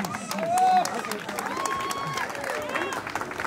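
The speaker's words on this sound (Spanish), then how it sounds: "el aplauso para todos ustedes hoy en esta noche para la señorita quinceañera" Crowd applause at a quinceañera party, steady clapping mixed with cheers and chatter beneath a voice, moderately loud throughout.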